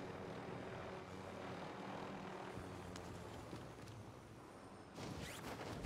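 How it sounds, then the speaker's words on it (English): A helicopter in the video game Warzone Caldera drones steadily with a continuous rotor and engine hum, fairly faint and alone, with a brief swell near the end. "Here, you can take the chopper."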